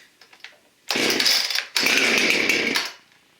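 A Husqvarna 455 Rancher chainsaw is pulled on choke for a cold start after sitting about a week: a few quiet cord pulls, then two loud bursts of buzzing engine before it cuts out.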